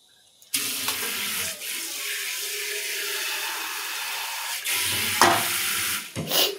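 Water pours from a tap or jug into a pan of fish curry as it cooks, a steady running splash with a few louder bursts and clatters near the end, no voices.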